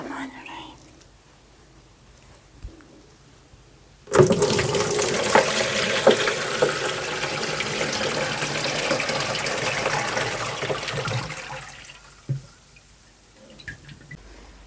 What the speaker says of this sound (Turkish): Şimdi bu suyu şu leğene tekrar boşaltacağım.